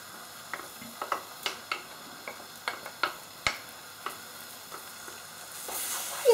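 Spoon clacking against a pot while tomato concentrate and flour are stirred in, for Polish baked beans (fasolka po bretońsku): a steady run of sharp, evenly spaced taps over a faint background hiss, with no talking.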